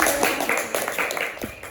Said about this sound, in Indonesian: kita berikan tepuk tangan untuk Ola